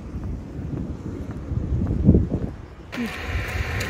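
Strong mountain wind on the road from Buenos Aires to Ushuaia roars and gusts against the microphone, swelling toward the middle, while people talk over it before a brighter hiss takes over near the end.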